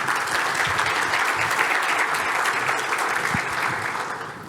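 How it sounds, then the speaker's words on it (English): An audience claps continuously to welcome a panel of speakers at a conference session, a dense, even wash of applause that holds steady and then begins to fade toward the end. "We'll give them a round of applause to welcome"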